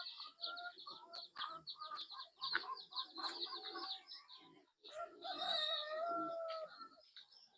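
Chickens clucking and calling in a farmyard, a close cluster of overlapping clucks and short squawks with a few longer drawn-out calls, moderately loud with no talking.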